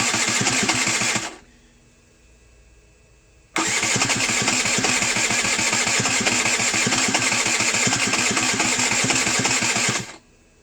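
A Derbi Senda motorbike being rebuilt cranks on its starter, a loud buzzing whir in two long bursts separated by a short quiet gap, without catching.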